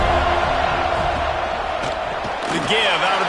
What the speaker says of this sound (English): This crowd just shaking the girders of this place,